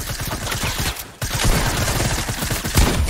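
Rapid, loud gunfire from a Fortnite Battle Royale Solo Arena match, bursts of shots packed into dense volleys with a short pause partway through, then resuming steadily to the end with no voices.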